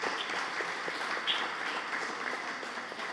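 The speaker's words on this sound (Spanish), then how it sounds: "vamos a darle un fuerte aplauso a Simón Rodríguez" An audience applauds together in a steady, dense clapping for Simón Rodríguez at a talk on university education in Venezuela, filling the whole moment without pause.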